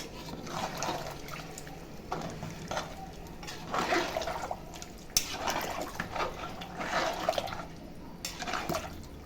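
Mutton cooking water poured from a tumbler into a biryani pot, several splashing gushes of liquid in bursts, close up with no talk.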